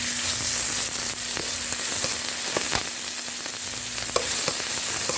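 Minced pork and garlic stir-frying in hot oil for a noodle dish, a steady close sizzle broken by scattered clicks and scrapes of stirring.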